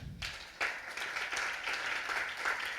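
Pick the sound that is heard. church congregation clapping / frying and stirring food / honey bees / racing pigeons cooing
church congregation clapping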